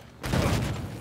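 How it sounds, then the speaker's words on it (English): Mortar rounds landing in Battlefield gameplay: a sudden heavy blast at about a quarter second swells into a loud, sustained low rumble and crackle that fades slowly across the second, with no talk. "Oh, mortars."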